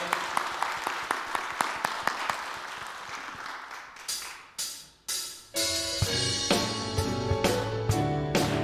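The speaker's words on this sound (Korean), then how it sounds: "우리 하나님께 감사와 영광의 박수 올려드리겠습니다" Congregation claps together in a church during a New Year prayer meeting: a steady burst of dense hand clapping for about four seconds, then it gives way to instrumental music starting up.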